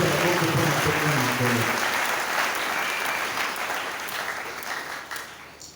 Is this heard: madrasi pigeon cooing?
no